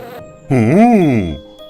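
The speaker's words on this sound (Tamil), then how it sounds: "அப்பதான் அது அங்க ஒரு பெரிய தேன் கூடு இருக்கிறத கவனிச்சது. அதுல தேன் நிறைஞ்சு இருந்தது." Buzzing bees around a large honeycomb in an animated story: a short, loud, close drone that swells, rises and falls in pitch over about a second, then fades, with no one speaking.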